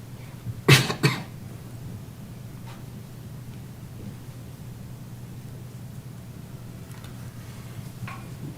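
Two quick coughs sound close in a quiet meeting room, followed by a faint steady hum and a few soft scattered clicks.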